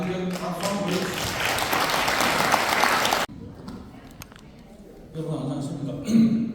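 A hall audience at a humanities lecture applauds steadily for a lawyer lecturer for about three seconds. The applause cuts off abruptly and a voice then speaks into a microphone.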